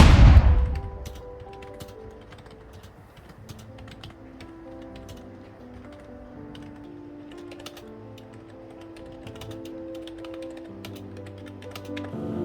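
Fingers type on a Razer Cynosa V2 membrane gaming keyboard, producing a steady patter of soft, close keystrokes with a few sharper taps. The typing runs on its own with no talk, and a low hum sits underneath.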